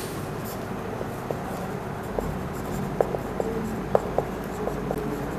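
A pen writes an accounting journal entry on paper, producing soft scratching strokes with a few sharper taps scattered through a quiet, steady room hiss.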